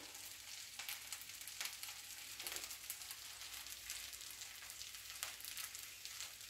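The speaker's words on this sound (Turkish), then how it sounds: "Arkadaşlar güzelce kızarsın" Chicken wings coated in a soda, egg and sauce batter fry in hot oil, giving a steady, dense crackling sizzle with small pops throughout, close and continuous with no talking.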